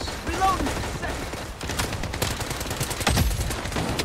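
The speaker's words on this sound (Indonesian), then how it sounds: "Ada yang nembakin saya nih." Enemy gunfire directed at the player in the shooter game Blood Strike, a scattered run of sharp shots and bursts crackling through dense game noise, fairly loud and close throughout.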